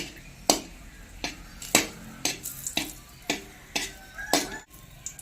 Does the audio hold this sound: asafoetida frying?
yes